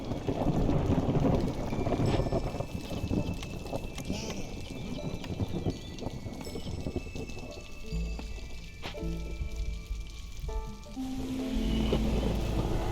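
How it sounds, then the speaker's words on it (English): Heavy rain and rolling thunder fill a thunderstorm in the video game Against the Storm, a dense steady wash with low rumbles, loudest at the start and end. "This is going to be a really rough storm."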